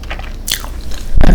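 Someone bites crunchily into a Taco Bell rolled chicken taco. Crisp cracking bites come up close with no talk, ending in a heavier crunch.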